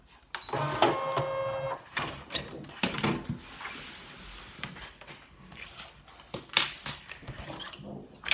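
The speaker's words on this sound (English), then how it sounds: "I'm going to say OK and unload the mat." A Brother ScanNCut cutting machine feeds out its cutting mat with a series of mechanical whirs and clicks from the motor and rollers, broken by a few clunks and pauses, heard close and moderately loud.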